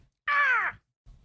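A person's voice imitates an owl call with a single short hoarse, falling hoot, close and alone, followed by quiet.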